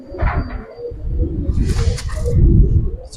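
A red female pair of Giribaz pigeons coo in low repeated throaty pulses, close by, with a scuffling rustle midway.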